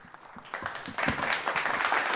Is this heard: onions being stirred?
no